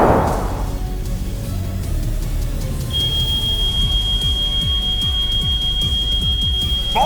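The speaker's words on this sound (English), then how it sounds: "there it is! The emergency alarm!" An emergency alarm sounds inside the Roblox Brookhaven game, a steady high electronic tone that starts partway in and holds, over a busy, rumbling game background with no talking.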